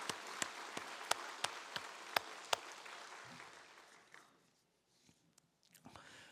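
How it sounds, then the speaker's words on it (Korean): A church congregation claps in a series of sharp, evenly spaced hits that thin out and fade to near quiet, followed by a few faint scattered sounds. "한번 박수하십시다."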